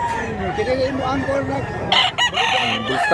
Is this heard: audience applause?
no